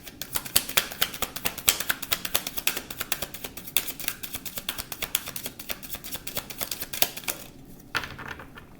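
Tarot cards shuffled by hand in a rapid series of crisp, close riffling snaps for several seconds, stopping near the end.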